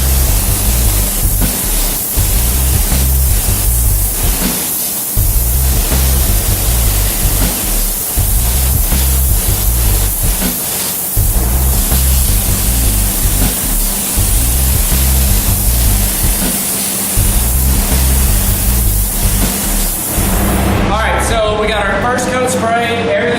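Spray gun applying color-shifting paint, a steady loud hissing rush throughout with a rhythmic pulsing underneath, ending in a brief burst of music-like tones.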